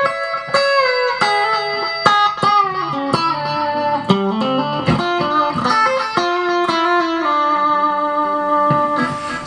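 An electric guitar on its Strat pickup plays through an Evans amp with a clean tone. Plucked notes and chords ring out one after another, close and clear, with no talking.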